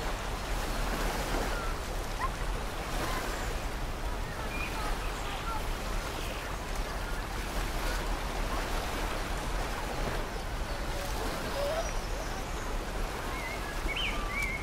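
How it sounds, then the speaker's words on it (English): Small waves lap steadily along a mountain lake shore ringed by pines and firs, a continuous soft wash of water at close range with faint, scattered splashes and no talking. "The sound of small waves invites you to relax."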